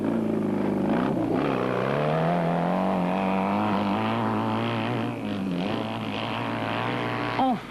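Motorcycles roar off together at a start for the 1986 Dakar rally, including twin-cylinder Honda bikes, their engines revving loudly and rising in pitch in a close, continuous drone, with no voices over it.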